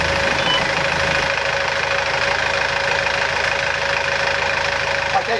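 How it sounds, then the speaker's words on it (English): A sailboat's engine idles nearby with a steady, loud rumble and a faint knocking pulse, continuous throughout. "hearing the sound of that engine turnover was such a relief"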